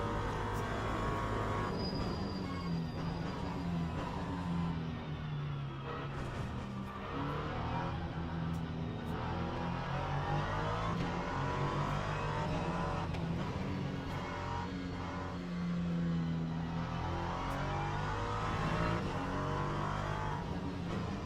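Racing car engine in a racing video game, a steady dense roar that rises and falls with revving and gear changes through corners and a chicane, continuous and loud with no talking.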